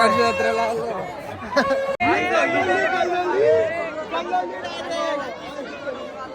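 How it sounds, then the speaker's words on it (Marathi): Crowd hubbub at a packed village fair (jatra), with close voices talking over a constant background of many people chattering. "जत्रा फुल भरले जाम गर्दी"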